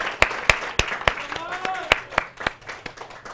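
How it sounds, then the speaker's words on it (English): A small lecture-room audience claps for a hackathon winner, a sparse, irregular patter of individual handclaps near the listener with a voice briefly underneath. "Please give him applause."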